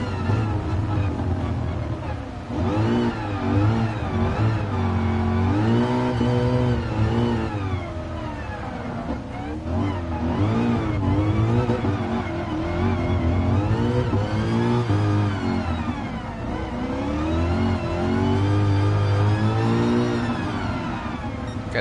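In the Gran Turismo Sport video game, a car engine revs repeatedly in wet weather as its wheels spin, the pitch sweeping up and down in loud, continuous surges.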